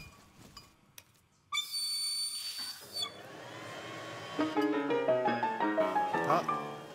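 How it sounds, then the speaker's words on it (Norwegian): A referee's whistle is blown to start a hide-and-seek hunt on a TV game show: a steady, shrill tone holding for about a second and a half, followed by tonal music. "Jakten starter med fløyta går."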